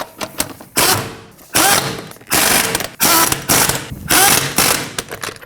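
A hand ratchet snugs down lug nuts on a Ford Edge wheel, giving repeated bursts of rapid clicking. Each burst lasts about half a second to a second, with short pauses between, and sounds close and fairly loud.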